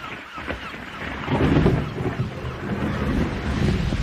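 Thunder rumbling from an approaching electric storm at sea, a low rolling roar mixed with wind and rain noise, swelling louder midway and continuing steadily.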